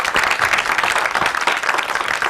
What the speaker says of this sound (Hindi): तो फिर तालियां